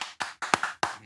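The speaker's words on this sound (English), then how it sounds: "I clapped for myself there" A short burst of about six crisp, evenly spaced hand claps, close and dry, with no voices over them.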